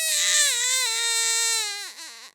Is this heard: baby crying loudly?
yes